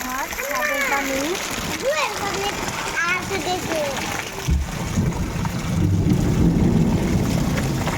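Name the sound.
rainwater from the roof falling into a bucket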